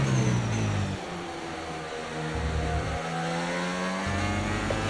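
A Formula 1 car engine in the F1 24 video game revs and drones loudly and steadily, its pitch rising and falling slightly with gear changes, with no voices.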